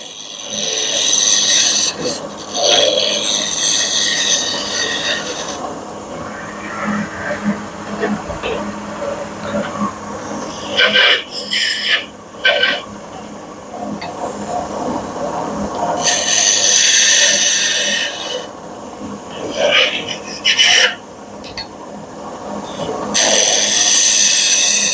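A Shopsmith Mark woodworking tool turns a tenon on a lathe, with bursts of bright scraping and rasping cutting that come and go over a running motor hum, broken by pauses.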